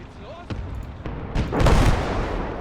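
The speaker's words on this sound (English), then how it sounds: "we've got some heavy artillery banging at us now" Heavy artillery fire in a Fall of France battle in a war video game: dull booms and rumbling blasts build from scattered thuds into a louder, sustained barrage, with a voice speaking over it.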